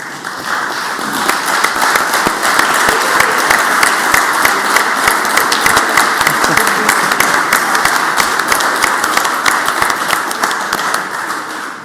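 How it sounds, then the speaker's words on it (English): Sustained applause on the Mississippi Senate floor honoring a team, a loud, dense wash of many hands clapping that carries on steadily for about twelve seconds with scattered sharper claps. "thank y'all for that applause"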